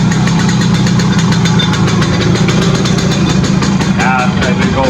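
A Simson S51 moped fitted with a new MZA 50cc cylinder and new MZA exhaust runs at a steady, loud, continuous drone with a faint rattling vibration, while a voice talks over it.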